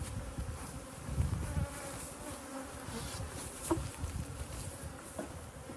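Honey bees buzz at a hive, a close, continuous humming swarm with occasional louder passes and faint rustling of frames.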